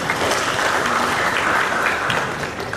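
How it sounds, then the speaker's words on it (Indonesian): An audience at an Indonesian peaceful-election gathering applauds high school students, producing dense, steady clapping that holds at an even, fairly loud level throughout with no one speaking over it. "Tepuk tangan untuk anak-anak SMA."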